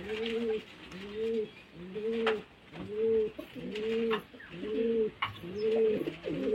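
Two young Kalanga pigeons coo close by in a steady run of about seven rolling, evenly spaced coos with brief pauses between them.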